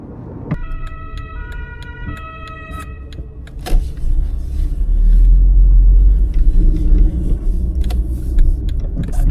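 Steady engine and road rumble heard from inside a first-generation Skoda Octavia moving at 50 km/h in fourth gear, growing louder partway through, with a faint tonal whine early on.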